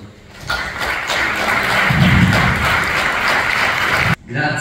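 Audience applause at a national conference on the Longobards, a dense burst of hand clapping that rises quickly, stays loud and steady for several seconds, then breaks off sharply near the end.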